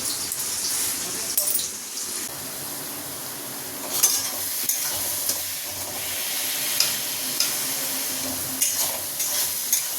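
Chicken curry masala with onion, ginger, garlic and green chilli sizzles and hisses in a pan while a spoon stirs and scrapes, steady frying with intermittent clanks, close up.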